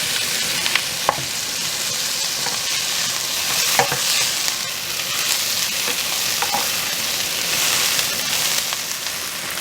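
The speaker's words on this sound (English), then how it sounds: "And my garlic cloves. I'm going to cook these for 2 or 3 minutes." Garlic cloves fry in a pan with a steady sizzle and crackle, punctuated by a few sharp pops and brief clinks of stirring.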